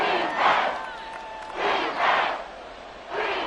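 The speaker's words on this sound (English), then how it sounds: "This crowd doing their best to make a lot of racket." A stadium crowd in the Madden 24 football video game roars in rising and falling swells, with cheering and yelling peaking in three loud surges over a constant background din.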